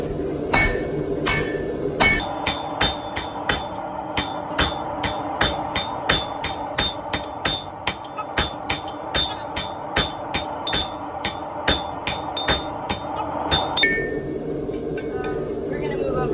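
Blacksmiths strike hot iron with a big hammer while forging a turtle, ringing metallic blows in a steady, even rhythm, about two dozen strikes close by, bracketed by a few looser clanks at the start and a pause at the end.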